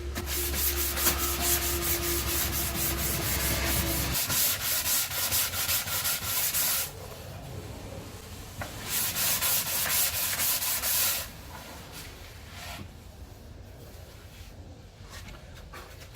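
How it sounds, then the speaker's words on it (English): Sanding block or paper rubbing along the sharp edges of timber pieces for a tailgate chopping board, a steady close scratchy rasp in long strokes that pauses briefly and resumes, with no talk. "we're just going to take off that sharp edge all around just to give it a nice finish"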